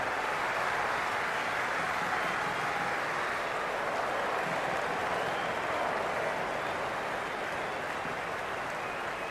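A large cricket crowd at an India versus Pakistan T20 World Cup final applauds and cheers in a dense, continuous roar that stays loud and steady throughout.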